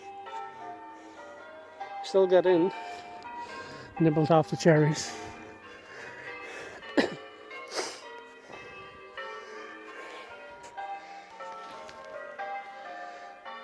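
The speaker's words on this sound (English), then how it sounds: "The country bells, the church bells pealing in the country." Church bells peal across the countryside, with clear ringing tones coming and going over several seconds while a person talks close by.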